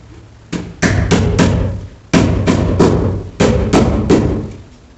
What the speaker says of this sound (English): Get your hammer out